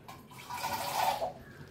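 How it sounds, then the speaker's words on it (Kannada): A little water pours into coconut chutney before grinding for a quick home lunch, a soft faint trickle that swells and fades over about a second. "ಇದಕ್ಕೊಂದು ಸ್ವಲ್ಪ ನೀರು ಹಾಕ್ಕೊಂಡು"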